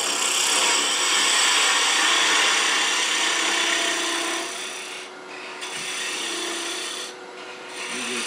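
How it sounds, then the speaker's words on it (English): A parting tool cuts wood on a lathe, shaping the tenon and stem of a turned wooden mushroom: a steady, close rasping scrape that eases off about halfway through and continues in shorter passes with brief breaks. "Parting tool a little bit like a skew here. Make the stem just a little bit bigger."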